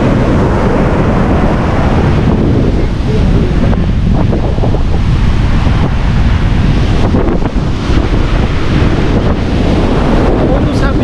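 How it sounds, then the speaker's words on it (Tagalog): Sea waves and surf roll on a beach at Casiguran, Aurora, under strong gusting wind that buffets the microphone, producing a loud, unbroken roar throughout. "Parang namumuhay yung dagat."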